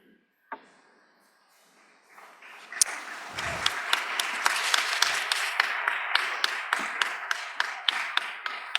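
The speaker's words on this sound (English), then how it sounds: "I usually have to tell people about the 10 clap minimum, but you guys seem to have it under control." Audience applause at the 2016 Ray Crenshaw Awards ceremony, starting as a few sharp claps and building into steady, moderately loud clapping with distinct individual hand claps.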